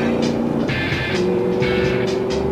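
A Spyker C8 sports car driving hard on a timed run, its engine note rising and falling through gear changes, close and loud with no talk over it.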